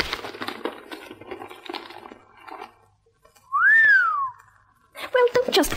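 A person whistles a single clear rising-then-falling note after some rustling and crinkling of a brown paper bag, and more crinkling and a voice follow, in an old radio drama.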